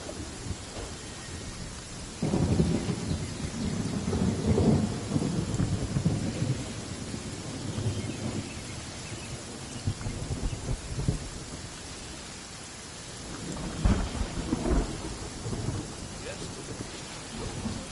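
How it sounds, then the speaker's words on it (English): Heavy downpour in the Genshin Impact game world, a steady hiss of rain on surfaces, broken by deep rolling thunder rumbles near the start and again later, with no talking over it. "Taking a stroll in the middle of a downpour certainly rouses the spirit."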